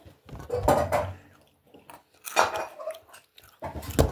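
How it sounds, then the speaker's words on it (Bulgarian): Someone eats a snack of treats up close, with crunchy chewing that comes in three separate bursts between short quiet gaps. "Аз почвам да си хапвам."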